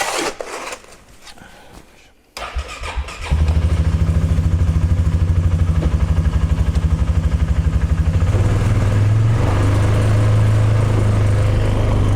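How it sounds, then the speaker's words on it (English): ATV engine idling and running steadily at close range while the machine backs out and turns around, a loud, even mechanical drone with some clatter, after a quieter stretch of rustling. "I'm actually going to back the ATV out and turn it around"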